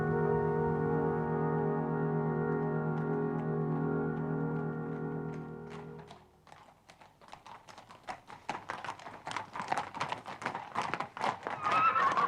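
A sustained tonal drone gives way to a brisk run of sharp, clustered taps like hooves clip-clopping, steady and fairly close, with a horse's whinny suggested.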